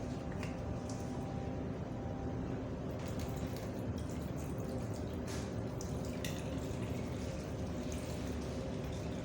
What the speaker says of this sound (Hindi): तो हम पहले स्टीमर में मैं पानी ऐड कर देती हूँ।